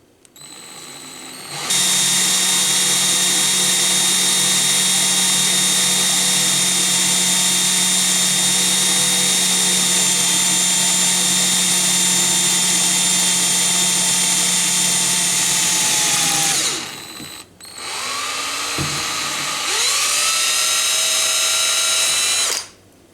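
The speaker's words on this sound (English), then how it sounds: "Now I get a 3/8 set screw, and I use a 1/16 drill bit for the size." A power drill with a 1/16 bit bores a small hole in a Ford 390 cylinder head, whining at a steady high pitch for a long stretch, winding down, then spinning up again briefly before stopping.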